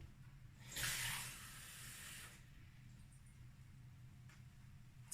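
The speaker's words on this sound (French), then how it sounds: "Je vais remplir d'eau." Water running from a tap into a glass for mixing papier-mâché paste, a broad hissing pour that swells briefly then tapers into a quieter steady trickle.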